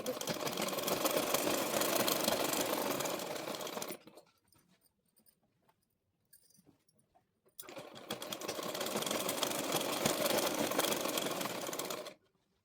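Two long bursts of a sewing machine's steady rapid whirring while stitching palazzo pants, broken by a quiet pause of a few seconds, with no voices.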